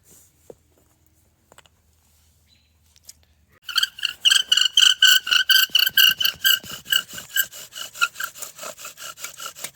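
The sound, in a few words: bow drill spindle rubbing wood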